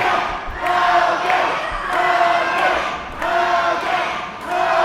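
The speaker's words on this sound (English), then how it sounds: "And the crowd getting right back in behind the average Joe Hogan" A wrestling arena crowd cheers and chants in loud, rhythmic waves with periodic thuds, while a commentator's voice runs over the top.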